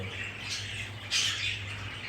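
A baby albino Japanese bird, a fledgling just out of the nest box, gives two short raspy squawks close by over a low steady hum.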